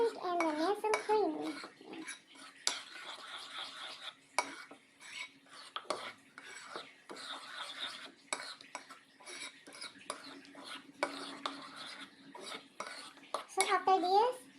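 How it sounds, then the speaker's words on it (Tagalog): A utensil scrapes and clinks against a bowl while condensed milk and Nestle cream are stirred together, a busy run of close, quiet metallic taps and scrapes with faint speech in the background. "Stir the condensed milk and the Nestle cream."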